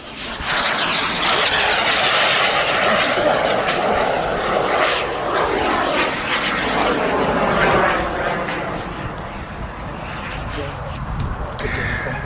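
A propeller aircraft makes an inverted pass at the Popham air display, a strong engine drone that rises and sweeps past and then fades, with a commentator talking over it and a crow cawing.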